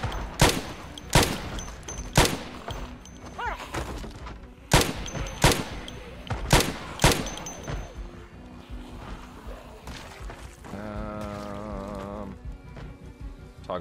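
Gunfire in Project Zomboid: about eight sharp, loud shots ring out in an uneven series over the first seven seconds, then quieter shuffling follows and a brief tonal game sound plays near the end.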